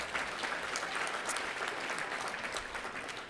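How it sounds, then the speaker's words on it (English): An audience at an awards ceremony claps in steady, dense applause that holds for a few seconds before easing slightly. "Clap there."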